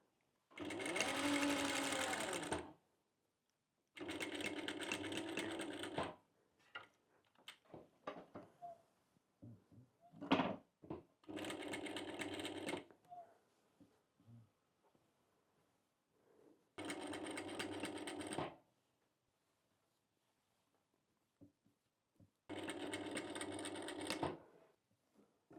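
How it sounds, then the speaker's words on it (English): Sewing machine stitching clothing seams in quiet, evenly spaced bursts of rapid whirring, each lasting a couple of seconds, with soft handling clicks and rustles of fabric between runs. "Only after that you can sew all around."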